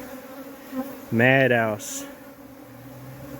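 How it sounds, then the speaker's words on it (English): Honey bees swarming over the walls around an old tree stump during a cut-out and hive transfer, a steady low buzz throughout with a brief louder voice-like burst in the middle. "Look at the amount of bees on top of these walls, just everywhere, all over."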